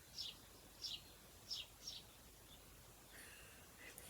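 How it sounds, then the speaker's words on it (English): A noisy sparrow gives four short, bright chirps at an even pace against a quiet background, followed by fainter, softer twitters and a sudden rustle at the very end. "Now that's a very noisy sparrow."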